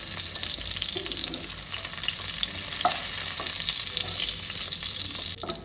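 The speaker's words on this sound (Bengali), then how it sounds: "দেখুন, আমার পটলগুলো লাল লাল করে ভাজা হয়েছে।" Pieces of pointed gourd (potol) fry in hot oil, giving a steady close sizzle with scattered pops and a brief clink of a spatula or utensil.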